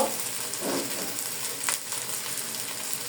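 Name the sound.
frying cabbage with spices in a pan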